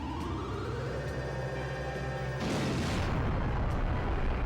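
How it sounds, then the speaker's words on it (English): A harpoon cannon fires in Skies of Arcadia Legends: a steady low rumble gives way to a loud broadband blast that keeps roaring and crackling to the end, with no voices. "Fire the local harpoon cannon."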